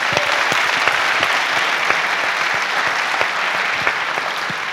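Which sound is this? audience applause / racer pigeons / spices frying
audience applause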